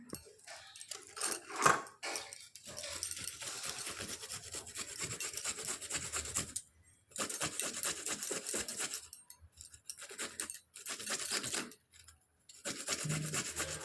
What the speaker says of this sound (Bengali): ততক্ষণে আমি একটু আদা আর রসুনটা বেটে নেবো শিলে